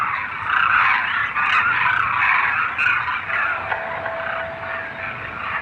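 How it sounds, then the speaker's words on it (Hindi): A large flock of demoiselle cranes in the Thar Desert calls continuously, a dense chorus of overlapping honking cries carrying across open ground. "थार में माइग्रेट होकर आई ये डेमोसेल क्रेन्स हजारों का झुंड बनाकर रहती हैं।"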